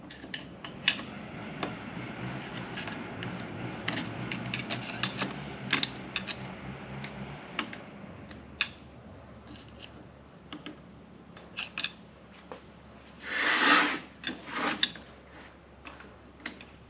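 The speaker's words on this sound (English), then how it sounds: "The screwdriver might not be the optimal tool for removing this clip here." A screwdriver prying at a clip inside a 1979 Ford C6 automatic transmission from a 4WD, faint metallic clicks and scrapes scattered irregularly, with one louder scraping rasp near the end.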